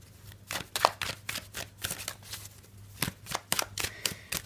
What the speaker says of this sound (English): let's give the cards a bit of a shuffle